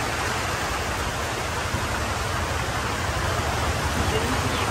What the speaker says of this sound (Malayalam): വട്ടക്കൽ ചന്തയിലും മഴ കിട്ടുന്നു